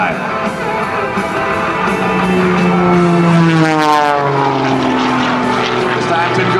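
An Extra 300 aerobatic propeller plane makes a low pass at an airshow, its loud engine drone rising and falling with a clear pitch drop as it sweeps by, under an announcer's commentary.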